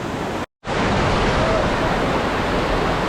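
Dense, steady roar of cascading water at Dunn's River Falls in Ocho Rios, Jamaica, loud and close, with a brief dropout of silence near the start before the broadband rush resumes unbroken.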